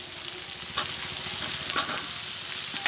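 Brinjal pieces and small fish frying in a pan in a village kitchen, stirred with steady scraping strokes over a constant broadband sizzle, close and fairly loud with no talking.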